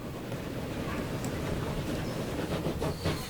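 A train rolling along the track in the railway simulation game Transport Fever, a steady mid-level rumble of rail noise with faint clickety-clack running evenly throughout, no talking over it.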